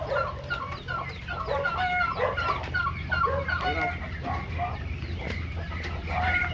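Chickens cluck repeatedly in a rural Filipino yard, a busy overlapping chatter of short calls, fairly close, with a possible crow mixed in and low background rumble.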